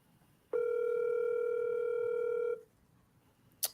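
A phone call on speaker gives one steady electronic tone lasting about two seconds, then cuts off, followed by a quiet pause and a tiny click.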